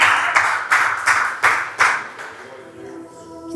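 A church congregation at a worship service claps together in a steady rhythmic beat, about eight close, loud claps before the clapping fades into softer background sound.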